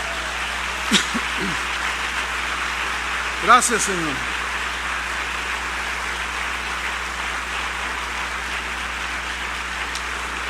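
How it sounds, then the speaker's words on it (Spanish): A church congregation applauds in praise of the Lord: a dense, even, rain-like wash of clapping that holds steady throughout, while a voice briefly speaks over it. "Denle un aplauso a Él, Él merece un aplauso."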